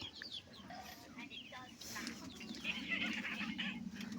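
Native hens cluck softly in a busy Philippine farmyard, with scattered bird calls and a faint voice nearby.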